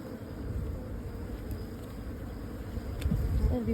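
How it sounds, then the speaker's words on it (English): Honey bees from a freshly caught swarm, now settled in a hive with brood, hum in a steady low drone that stays constant and fairly close, swelling slightly toward the end. "Yeah, you caught a swarm."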